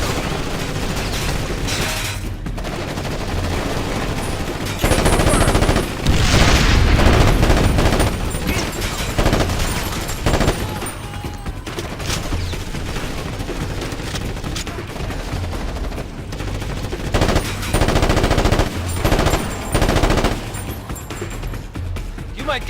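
Gunfire in the military shooter Ghost Recon Advanced Warfighter, with repeated bursts of automatic fire and heavy booms over a dense battle din, while voices call out amid the fighting.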